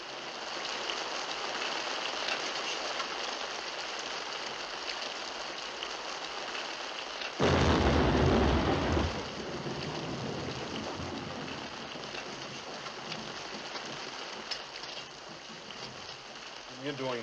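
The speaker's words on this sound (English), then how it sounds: "It's raining outside." Rain pours down outside, a steady soft hiss throughout with a brief louder burst of splashing in the middle.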